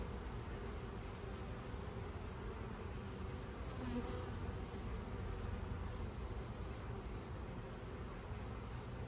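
Honey bees buzz steadily around open hive frames during an apiary inspection, a dense, continuous drone close by that holds at an even level with no voices.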